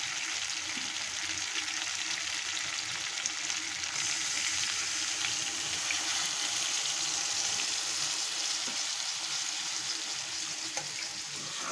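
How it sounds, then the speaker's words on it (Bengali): Water poured into a pan of taro and potato curry as it fries, giving a steady, close hiss and sizzle that runs evenly throughout without speech. "এবার আমি জল দিয়ে দেব সামান্য।"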